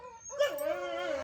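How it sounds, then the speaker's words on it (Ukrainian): A dog gives a brief, high whining whimper, close and soft, lasting about a second. "Це пес наш."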